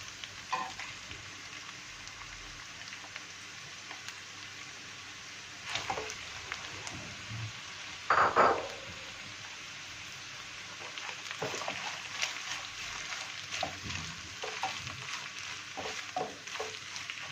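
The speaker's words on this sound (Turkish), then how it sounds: "Biraz da yeşil biberle kavrulacak." Green peppers fry with garlic in a pan for saç kavurma, a steady broadband sizzle running throughout, with a few louder bursts of crackle and stirring scrapes in the middle.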